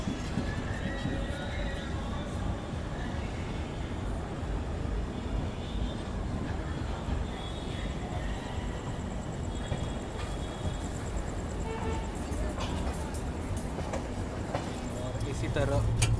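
The Darjeeling Mail train pulls out of Kishanganj station, heard from on board as a steady rumbling roll with faint clicking of wheels, moderate and continuous, building slightly at the end.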